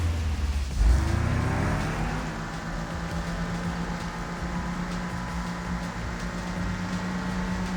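A car engine in the video game Dragon Raja roars loudly as it starts off, then settles into a steady driving hum with shifting engine tones, heard alone without speech.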